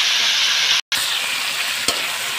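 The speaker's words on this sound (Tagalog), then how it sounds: "naluto na ang ahos guys. Ilunod ko na ang string beans guys" String beans dropped into a pan with cooked garlic give a loud, close, hissing sizzle that cuts out for a moment and then resumes, with one sharp clack, and no voices.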